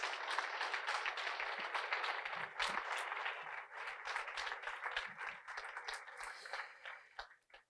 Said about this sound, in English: a round of applause for the Dr.